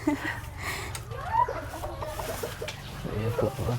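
Chickens cluck repeatedly at close range, a restless, overlapping chatter of several birds running throughout, with a faint voice occasionally audible beneath them.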